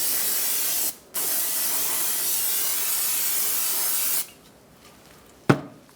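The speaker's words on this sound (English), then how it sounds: "Clean it off with some brake parts cleaner." Brake parts cleaner sprayed onto the brake hub of a 2012-2018 Ford Focus: a loud aerosol hiss with a brief gap, a long steady burst that stops, then a quick short spurt near the end.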